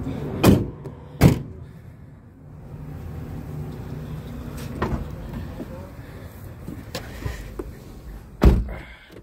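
A car door thumps shut twice in quick succession, then cabin shuffling and rustle follow before a final door slam near the end, all close by.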